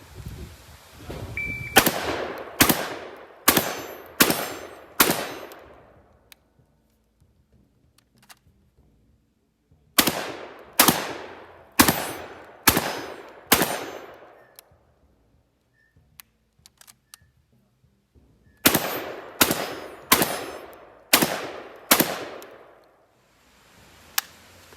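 An IWI Tavor TS12 combat shotgun fires in three bursts of five sharp, loud, evenly spaced shots, each burst separated by a few seconds of near silence.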